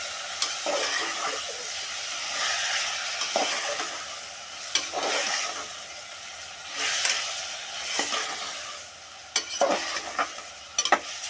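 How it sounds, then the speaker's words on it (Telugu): Tomatoes being stirred into kalagura, a mixed-greens curry made the old-fashioned way, frying in a pan: a steady close sizzle with scraping stir strokes at irregular intervals, no voices. "టమాటాలు వేసుకున్న తర్వాత ఇలా కలుపుకోవాలండి"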